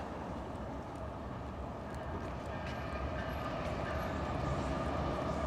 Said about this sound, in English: There's a freight train.